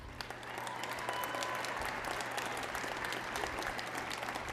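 A graduation audience applauds cum laude students at a fall commencement with steady, even clapping that swells after a brief start and echoes through a large hall.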